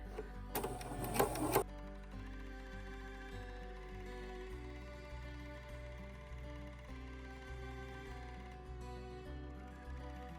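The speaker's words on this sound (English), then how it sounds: "this will cause the machine to gather the fabric for me" A sewing machine stitches continuously to gather fabric, a steady rhythmic mechanical chatter heard close up after a short, louder burst at the start.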